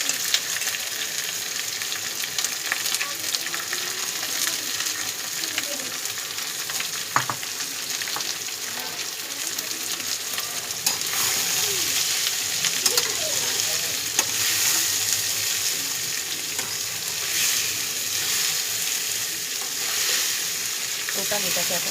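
Rice and minced goat meat for khichuri sizzle steadily in a hot kadai while being stirred, a continuous close crackle with occasional scrapes of the spoon.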